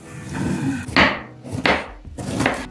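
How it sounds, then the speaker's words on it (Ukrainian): Three crisp knife chops dice an onion on a wooden board, each a sharp thud with a bright crack, spaced about a second apart with a low hum between. "Спочатку підготую цибульку, наріжу її кубиком"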